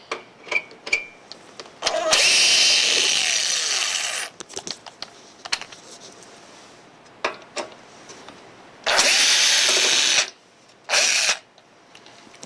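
A power drill backs screws out of a BrakeMate console in three separate bursts of loud, high whirring: a long run of about two seconds, then two shorter ones, with quiet clicks and handling noises between them.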